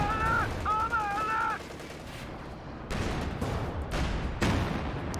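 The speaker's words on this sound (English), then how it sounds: "big shot from the ISU 152" A Soviet ISU-152 heavy assault gun fires in Company of Heroes 2 amid a battle, heavy booming shots and crackling gunfire with sharp repeated reports in the second half, a brief tonal honk near the start.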